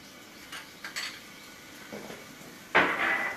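Butter drops into a lightly warmed pan while making white sauce, giving a brief hiss and sizzle near the end after a few soft kitchen clinks of pan and utensils.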